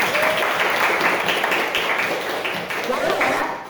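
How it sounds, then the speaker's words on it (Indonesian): A crowd claps steadily for a few seconds, the sound dense and even before tapering off slightly at the end. "Tepuk tangan untuk kalian."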